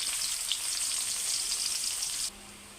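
Chopped onion dropped into hot oil already holding black cumin and bay leaf, a loud bright sizzle that runs steadily before cutting abruptly to a quieter hiss near the end.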